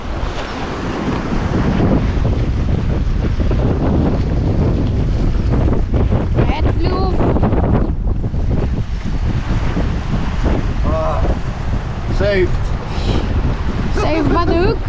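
Wind buffeting hard against a fishing boat on open water, a steady loud roar of gusts across the microphone with water and boat noise beneath, and voices speaking intermittently over it.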